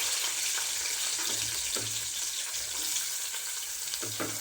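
Finely chopped onion sizzles in hot oil in a pan while cooking matki dal amti, a steady close frying hiss with a few soft clinks and scrapes of a utensil.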